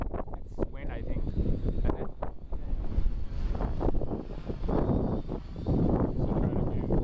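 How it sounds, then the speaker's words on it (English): Gusty wind buffets the microphone outdoors during an Asctec Pelican drone flight on a windy day, a steady rumbling roar with people talking over it throughout. "it's wind, I think."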